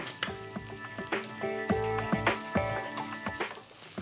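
Tomato sauce mixture frying in a pan on the stove, a close, steady sizzle broken by repeated clinks and scrapes of a spoon stirring.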